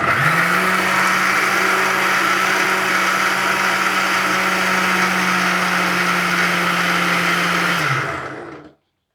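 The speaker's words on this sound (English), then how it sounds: "Now I will grind these into a fine paste." An electric mixer grinder whirs steadily at high speed, blending black pepper, red chili powder and other chutney ingredients into a fine paste for a tomato garlic chutney, then winds down and stops near the end.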